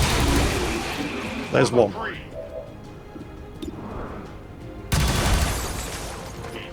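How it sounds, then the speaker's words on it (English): A bullpup SMG fires a three-round burst in XCOM 2, heard as a quick cluster of close, sharp shots with a boom, set among game sounds and voices talking. "His bullpup SMG has 3 shots, so he cannot afford him to miss any of these shots"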